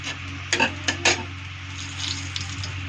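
Hot oil in a wok (kadai) sizzles as a dry red chili goes in. Several sharp metallic clinks and scrapes from a utensil come early over a steady close hiss, and no one speaks.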